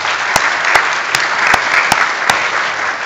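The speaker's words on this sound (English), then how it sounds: "let's get one more round of applause for the panel" An audience applauds a panel at a plenary session, loud dense clapping from many hands, punctuated by a handful of sharp, close individual claps.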